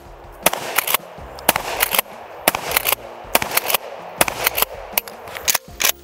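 A pump-action shotgun fires 12 gauge slugs outdoors: five sharp blasts spaced about a second apart, each followed by quick mechanical clacks of pumping, close and loud with no talk.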